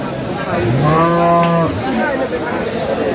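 A bull calf moos once at a busy cattle market in Aftabganj, Dinajpur, a long rising-then-falling call, loud and close over the murmur of the crowd.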